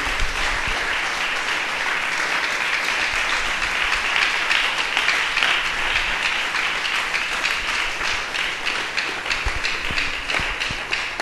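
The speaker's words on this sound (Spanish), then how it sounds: "A su nombre, bríndele un aplauso a Dios en este día." A church congregation applauding during a service, many hands clapping in a dense, steady roar that holds for about eleven seconds at even loudness, with no voices on top.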